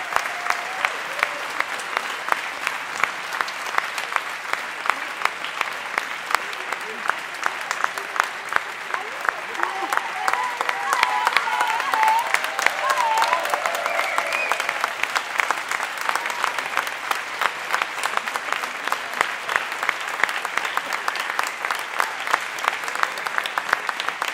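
A keynote audience claps at length, a sustained, evenly textured wave of applause that swells slightly midway and carries on for over twenty seconds with no voices on top.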